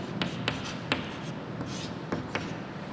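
Chalk or pen strokes tap and scrape in short bursts during a maths lesson, fairly close and sparse, with no talk.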